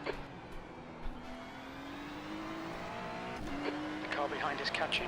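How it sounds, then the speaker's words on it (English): Race cars in a Daytona IMSA endurance racing video game, engines droning steadily with a rising whine as faster cars close in, some brief tyre and gear noises near the end, with a voice speaking over it. "There's a group of faster cars bearing down on you."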